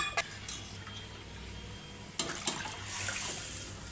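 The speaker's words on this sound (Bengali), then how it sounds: "হালকা পানি দিতে হবে" Water is poured into a pot of cooking green lentils, a soft close trickle and splash that swells toward the end over a low background hiss, no speech.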